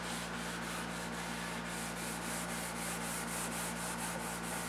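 White pad rubbing a finish coat onto a wooden Mission-style bookcase, a continuous close scrubbing hiss with faint rhythmic strokes over a steady low hum, no talking.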